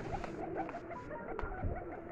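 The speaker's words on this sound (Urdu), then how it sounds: "یہ ہے جی بریڈر کبوتر" Breeder pigeons on a rooftop loft cooing, soft low throaty coos repeating close by, quiet with faint rustling and no speech.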